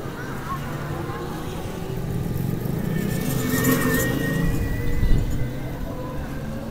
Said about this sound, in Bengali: এটা হচ্ছে ঢাকা মাওয়া হাইওয়ে।